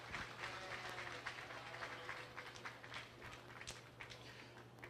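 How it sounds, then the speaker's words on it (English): Crowd applause at a 4-H sheep show featuring breeding ewes, a steady sustained clapping lasting the whole stretch, moderately distant with a constant low hum beneath. "Let's give them a nice round of applause."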